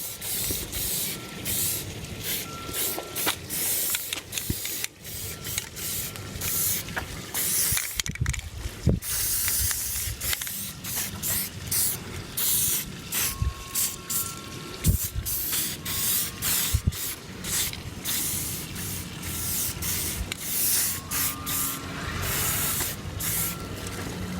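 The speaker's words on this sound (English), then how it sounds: "you just want to lightly just a very light spray over it" Repeated hissing bursts from a can of black spray paint used on a bike, short and long sprays with brief pauses, and a few small clicks and rattles between them.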